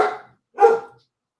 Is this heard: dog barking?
yes